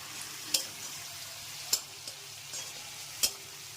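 Shrimp seasoned with salt and turmeric fries with whole tempering spices in oil, making a faint steady sizzle with three or four crisp utensil taps against the pan.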